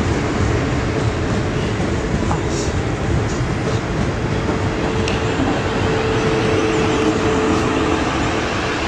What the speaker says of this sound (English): Now coming in onto platform 6 from Ascot and terminating in here